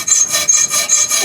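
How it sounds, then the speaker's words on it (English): A hacksaw cuts a marked vintage PX-10 bicycle part with straight up-and-down strokes, loud close rhythmic rasping at about four quick strokes a second, with no voice. "I hate all those cheap, flimsy hacksaws. Got my Sharpie mark. I'm cutting straight up and down."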